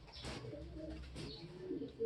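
Newly imported pigeons or doves, recently stressed by a long stay in a shipping box, give soft cooing calls close by with some light chirps, faint and somewhat muffled.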